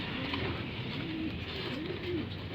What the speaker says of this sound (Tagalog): So yan mga ibon natin, lumilipad pa rin, no.